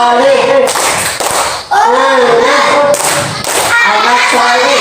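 A classroom of pupils performs the rhythmic 'tepuk anak soleh' clapping chant, sharp group claps falling in a steady pattern between loud sung-spoken chanted phrases, close and lively throughout.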